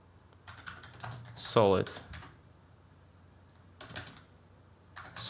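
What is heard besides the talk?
typing on a computer keyboard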